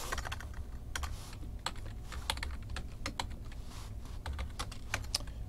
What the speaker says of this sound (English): I think I forgot how to type that in myself.